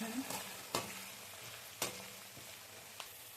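Onion and curry leaves fry in hot oil for thin poha chiwda, giving a continuous soft sizzle broken by a few sharp spatula scrapes and knocks against the pan.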